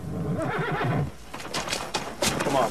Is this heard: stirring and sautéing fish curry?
no